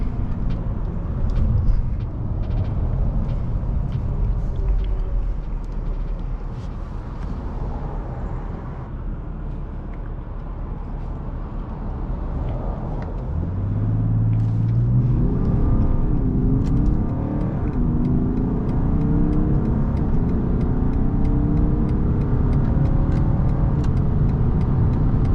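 A 2022 BMW 530d launches and accelerates hard on a busy Autobahn, its engine note rising steadily through gears as a continuous loud drone with climbing pitch sweeps heard from inside the car.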